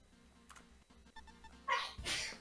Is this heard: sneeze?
yes